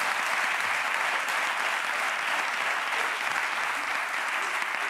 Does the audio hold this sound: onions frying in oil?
no